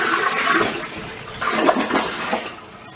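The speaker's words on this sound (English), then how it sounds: "flush the toilet." A household toilet flushing during bathroom cleaning, a loud rushing gush of water that swells, dips briefly, then surges again before tapering off, heard alone without talk.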